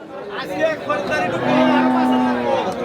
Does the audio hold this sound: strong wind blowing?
no